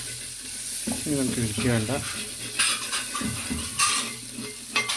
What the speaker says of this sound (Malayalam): നമ്മുടെ മസാല നല്ലോണം ഫ്രൈ മാതിരി ആയിട്ടുണ്ട്.